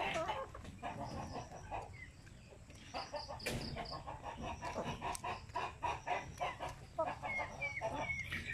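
Native chickens cluck steadily up close, several birds overlapping in short irregular calls, with an occasional louder squawk.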